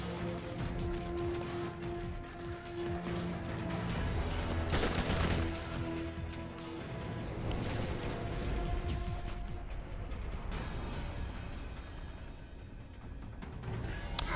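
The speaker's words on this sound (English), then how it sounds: "Who's shooting me?" Sustained Borderlands gunfire aimed at the player, a steady clatter of rapid automatic shots and mechanical weapon noises over game music, loud and continuous throughout.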